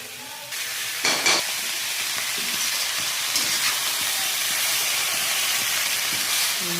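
Chopped vegetables sizzle steadily in a hot pan for Chinese-style fried rice, a continuous close frying hiss broken by a couple of sharp clatters near the start, with no voices.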